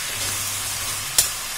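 Ivy gourd curry with onion frying and being stirred in a pan, a steady close sizzle with a soft low scrape and one brief sharp clink near the end.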